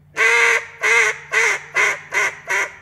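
A duck call blown in a multi-note cadence: six loud, evenly spaced drawn-out quacks in a steady descending rhythm, close and clear with no talking.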